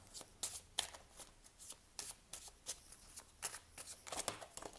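Oracle cards being shuffled by hand in a steady run of quick riffling bursts, close and fairly soft, with no talking.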